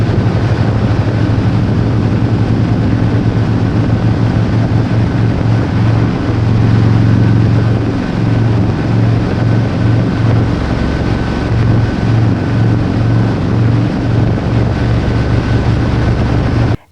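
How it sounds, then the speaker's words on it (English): An Indian Chieftain Limited motorcycle on a test ride: a loud, steady engine drone that rises and falls slightly through the run, buffeted by strong wind noise against the microphone, with no talking. "The last thing to do is to take it for a test ride."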